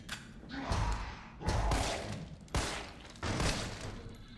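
Four heavy, booming gunshots fired in the video game Resident Evil 3 Remake during a fight against Nemesis, spaced about a second apart with dull thuds and short decays, and no talking over them.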